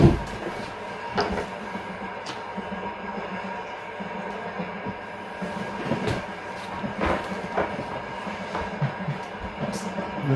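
A Lyon-Marseille train passes in the opposite direction, heard from aboard a moving train as a steady rumble with rhythmic clatter and a few sharp bursts, fairly loud and without talk.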